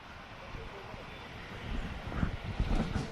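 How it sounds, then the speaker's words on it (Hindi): Helicopter carrying a chief minister lifting off, a broad roaring engine and rotor wash that swells louder over a few seconds, with wind buffeting the microphone. "ये देखिए हेलीकॉप्टर ने उड़ान भर ली है"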